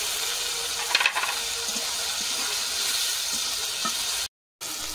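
Ginger and tomato fry in a pan with salt added, a steady, even sizzle with faint spattering pops, close and uninterrupted until a brief cut near the end.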